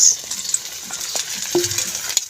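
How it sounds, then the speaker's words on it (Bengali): Prawns going into frying masala in a pan, with a steady close sizzle and a few short clinks and scrapes of a spoon stirring against the metal. "এবারে দিয়ে দেবো চিংড়ি মাছ।"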